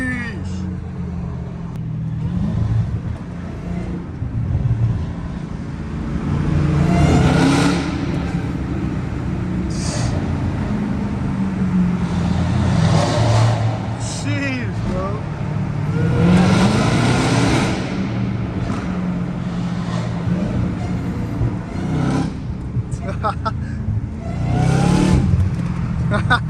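Dodge Challenger Hellcat Redeye and a tuned 670 hp Mercedes C63 S accelerating hard on a freeway, engines roaring and surging in repeated bursts close by, with people talking over the engine noise throughout.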